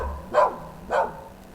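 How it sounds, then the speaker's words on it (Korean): A dog gives two short, separate barks at moderate distance, about half a second apart, with nothing else around them. "어서 강아지가 짖나"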